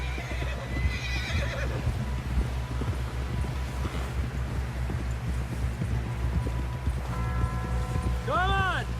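Horses in Red Dead Redemption 2 in a snowy setting, with steady clip-clop of hooves through the scene and a rising neigh at the end, with voices talking over it.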